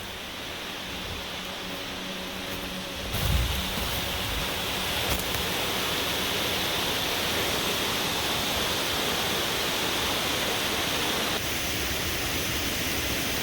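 A waterfall on a creek in winter near Revelstoke, British Columbia, a steady, full rushing roar of falling water that holds constant throughout, with no voices.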